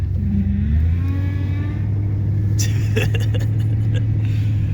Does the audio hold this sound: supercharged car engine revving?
yes